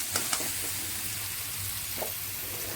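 A tempering for uggani fries in a pan with a continuous gentle sizzle and hiss, close by, with a few light knocks of a spoon stirring, brief and quiet, without speech.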